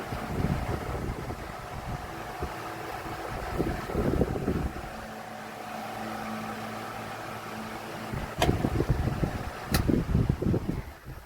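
A Vornado Silver Swan Alchemy desk fan runs with a loud, steady whooshing drone and a faint whine, close by, with a couple of sharp clicks near the end.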